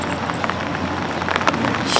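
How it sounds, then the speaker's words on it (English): Rain begins falling on a golf course as a steady soft hiss with scattered patters, fairly loud and close throughout without any talk. "The rain is starting to come."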